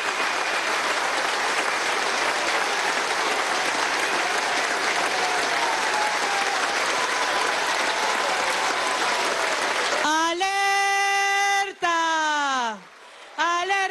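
Sustained audience applause fills a political forum closing session in São Paulo, loud and dense for about ten seconds before breaking off into a sung musical phrase with brief gaps.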